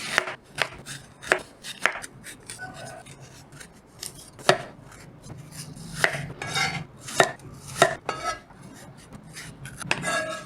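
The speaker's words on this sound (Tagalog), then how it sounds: "So, ngayon, ay hiwain natin ang ating si apple." A knife chops through an apple on a cutting board, a run of crisp, irregular thuds and taps close by, quiet overall with short pauses between cuts.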